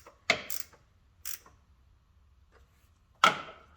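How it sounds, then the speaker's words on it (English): A ratchet wrench snugs the oil drain plug on a 1965 Chevrolet Corvair: a few short, sharp metallic clicks, separated by near silence. "I'll take the same ratchet wrench and I'll just give it a little bit of a snug."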